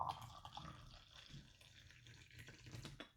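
Tea poured from a teapot into a cup at a table, a soft, quiet liquid trickle lasting a few seconds.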